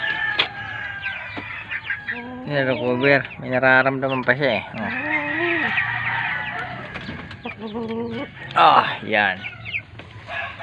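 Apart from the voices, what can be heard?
chickens clucking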